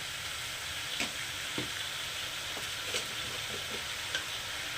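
Taro leaves fry in a pan as turmeric goes in, a steady close sizzle with a few soft ticks and stirring knocks scattered through it.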